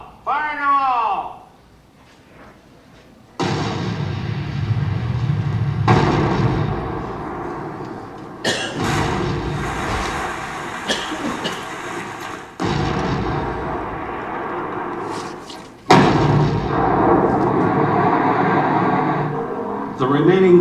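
Rock blasting at the Crazy Horse Memorial mountain carving: a series of heavy booming blasts follows an opening shout, each a sharp loud onset trailing into long rumbling rolls that echo across the site.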